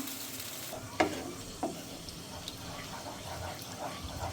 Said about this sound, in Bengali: এখন একটু ভালো করে জাল দিতে হইব যখন এটা ঘন হয়ে আসবো তখন এটা হয়ে গেছে সবজিগুলো কষানো হয়ে গেছে